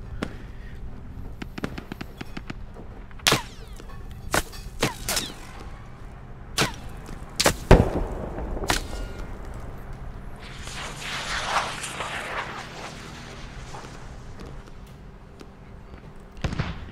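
Artillery guns firing in the Squad military shooter game, a series of sharp, loud separate blasts spaced irregularly, followed by a rushing burst of distant impacts, with quiet radio-style talk between shots.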